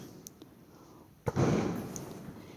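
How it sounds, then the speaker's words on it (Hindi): A single sharp firecracker crack outdoors, followed by a rumbling, crackling burst that slowly fades against steady background hiss. "थोड़ी सी बाहर यहाँ पे पटाखों की आवाज़ आपको सुनाई दे रही होगी"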